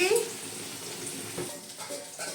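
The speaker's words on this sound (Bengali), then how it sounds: "দেখুন বন্ধুরা, আলু ভাজা হয়ে গেছে" Potatoes sizzling and crackling in oil in a pan with soft stirring scrapes, close and steady, a brief tone at the start.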